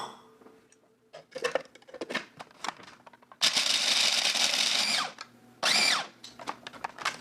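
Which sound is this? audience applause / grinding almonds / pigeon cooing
grinding almonds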